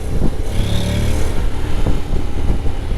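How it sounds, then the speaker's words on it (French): Honda Forza 750 scooter engine running with a deep, motorcycle-like drone, steady and close for a few seconds with no talking. "c'est le bruit moteur d'une moto alors que je suis en scooter quoi."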